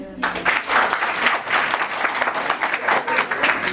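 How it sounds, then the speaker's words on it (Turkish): Students at a girls' vocational and technical high school in Mersin applauding themselves: a burst of lively, crowded clapping that starts abruptly after a voice and continues in uneven waves throughout. "O zaman kendinize bir alkış"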